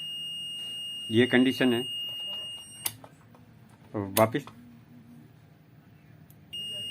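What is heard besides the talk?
digital multimeter continuous beep fault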